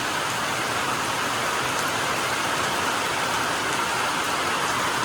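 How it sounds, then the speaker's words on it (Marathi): Steady, loud rain pours down in a continuous dense hiss in Chandoshi village, Devgad, in the Konkan region, with no voices or other distinct sounds. "आणि हा पाऊस आलाय"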